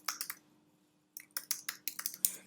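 Fingers type on a computer keyboard, giving a few quick clicks, then a short pause, then a longer run of crisp, close keystrokes in an uneven rhythm with no voices.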